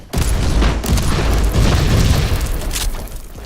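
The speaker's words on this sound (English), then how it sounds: "So you grenade it there." A grenade explodes in the Warhammer 40,000: Inquisitor video game, a loud, sustained booming blast with rumbling low end that fills the whole few seconds.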